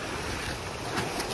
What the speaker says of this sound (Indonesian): disambut dengan ombak yang begitu ganas